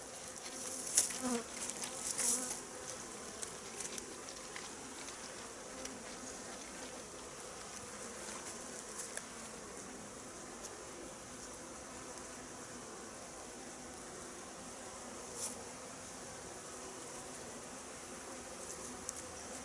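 Honeybees buzzing steadily around an open hive during an autumn varroa treatment, a dense continuous drone close by with occasional louder passes and a few faint clicks, no talking.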